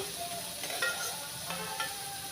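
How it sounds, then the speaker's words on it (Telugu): Onion rava dosa frying on a hot pan after being flipped, a steady soft sizzle with a few light scraping taps from the spatula, close and without voices. "నేను ఉల్లిపాయలు వేసాను కాబట్టి తిరగవేసి వేపుతున్నాను"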